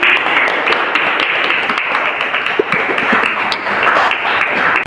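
Applause in a classroom lesson, dense continuous clapping from a group, loud and close, steady for several seconds with no talk over it.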